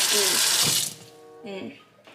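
Water pours from a kitchen sink faucet in an apartment, a loud steady broadband rush for most of a second, then quieter trickling with a brief second surge.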